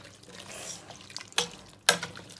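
Water is added to a pot of beef stew in a couple of short, sharp splashes over a quiet background, with faint trickling between them.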